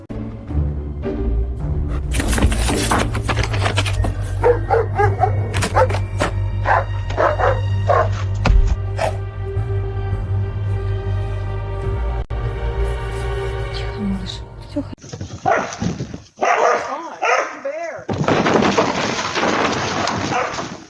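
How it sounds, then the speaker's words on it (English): A dog barks and yelps repeatedly while chasing an animal toward trees, loud and close over busy background noise, with people's voices mixed in. "The dog's after it."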